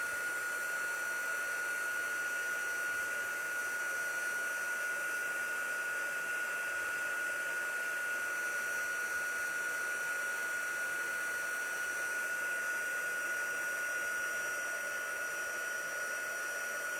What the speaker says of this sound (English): pardon me while I turn on the embossing tool. The heat tool.